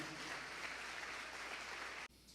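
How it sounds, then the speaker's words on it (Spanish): Church congregation applause, a steady dense wash of clapping at moderate distance that stops abruptly near the end, with no talk over it. "que ese aplauso sea para el Señor"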